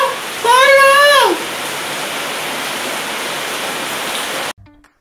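Heavy rain pours down in a children's Sunday school story, a loud, steady wash of hiss that runs for several seconds before cutting off abruptly. A brief voice with a rising, falling tone is heard near the start.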